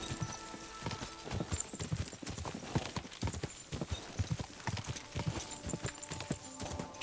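A horse gallops in Kingdom Come: Deliverance II, its hooves drumming in a fast continuous rhythm, close and fairly loud, with no talk over it.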